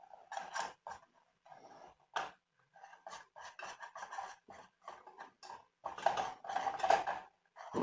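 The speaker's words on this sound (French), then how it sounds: "Il y a la casserole qui bouge de tous les côtés" A saucepan shifts and rattles on a stove burner while a roux cooks, giving a run of irregular scraping, clattering metallic knocks that come in short bursts, close and fairly quiet.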